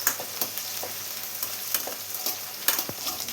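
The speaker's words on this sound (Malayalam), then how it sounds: "ഇതിലോട്ട് വെണ്ടക്കായ ഇട്ടൊന്ന് ഫ്രൈ ചെയ്തെടുക്കാം" Okra frying in hot coconut oil crackles and sizzles continuously, with frequent small pops and spatters, close and fairly loud, with no talk.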